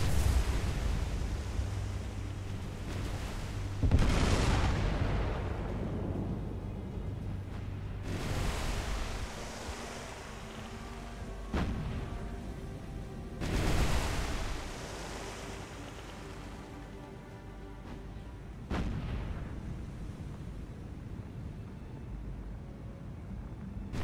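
Naval guns fire in the War on the Sea video game at a Japanese Akizuki destroyer, with several heavy booming blasts spaced a few seconds apart over a constant noisy wash of sea and engine ambience.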